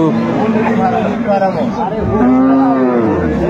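A cow moos loudly and close by in a livestock market beside her calf, with people chattering in the background.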